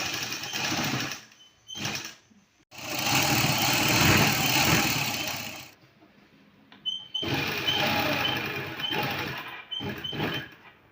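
A sewing machine stitching a salwar runs in several loud, close bursts of steady whirring, stopping and starting with short quiet gaps between seams.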